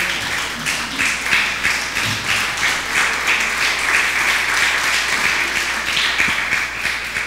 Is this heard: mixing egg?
no